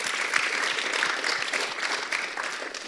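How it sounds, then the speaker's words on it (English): Steady applause from a crowd, a dense wash of many hands clapping at once, sustained throughout without voices standing out. "Yay to the spontaneous clapping, everyone."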